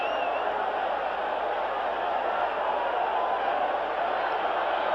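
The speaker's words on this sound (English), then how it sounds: "Boy, listen to this crowd. They're alive now." Crowd at a baseball stadium during a 1984 Tigers–White Sox game, a continuous, full roar of cheering voices holding steady throughout, with no clear single voice above it.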